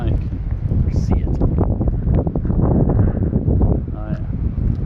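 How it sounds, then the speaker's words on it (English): Strong wind at a beach buffets the microphone with loud, continuous low rumbling gusts, while a faint voice briefly surfaces beneath the roar. "I don't know if you can hear the wind or not, but it's gonna get windy over here"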